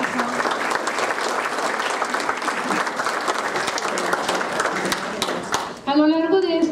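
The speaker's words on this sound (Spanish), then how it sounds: "Démosle un aplauso." A crowd applauds steadily with dense, sustained clapping, then a voice begins speaking over the tail end.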